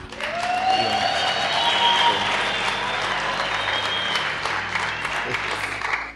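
Sustained applause from a crowd, dense and steady clapping throughout, fairly loud and close.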